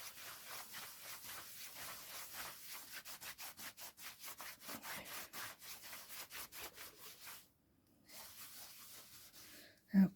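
Faux leather being rubbed and buffed by hand in repeated quick back-and-forth strokes, close and steady, with a brief pause before a final scrape.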